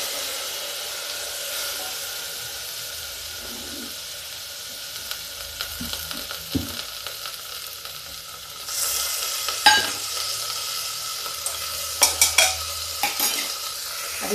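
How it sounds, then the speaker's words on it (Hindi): Potatoes and pointed gourd sizzle in a pan with masala, a steady close fry with scraping spoon stirs and clinks of utensil on metal growing busier toward the end. "अब इस मसाले को हम देर तक भूनेंगे, तभी हमारी सब्ज़ी अच्छी बनेगी।"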